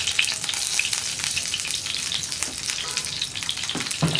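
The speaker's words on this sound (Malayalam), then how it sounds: "കടുക് പൊട്ടി കഴിയുമ്പോൾ കറിവേപ്പില ചേർക്കാം." Curry leaves and asafoetida hitting hot oil with popped mustard seeds for a mango pickle, giving a loud, dense, steady frying crackle up close, with a couple of faint knocks near the end.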